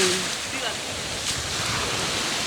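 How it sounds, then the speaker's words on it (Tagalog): Strong ocean waves surge and wash near a few beached fishing boats, a continuous loud roar of surf blended with gusty wind buffeting the microphone. "medyo malakas po dito yung kalbog ng alon pero kaya naman po siguro ni Tatay Tatsuki."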